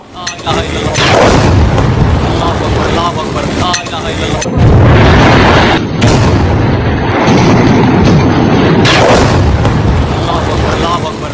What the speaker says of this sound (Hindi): ये बहावलपुर में एक के बाद एक 4 मिसाइल आकर गिरी हैं